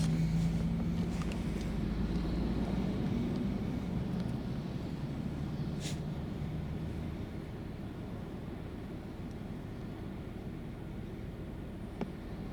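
A 2013 Toyota Highlander with a 3.5 V6 running on LPG through a Landi Renzo system, pulling away gently into traffic, with a steady low engine drone and road rumble that eases slightly as it moves off.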